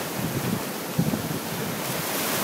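Ocean waves wash onto a beach on Sri Lanka's east coast, a continuous rushing surf mixed with wind buffeting the microphone, with no voices.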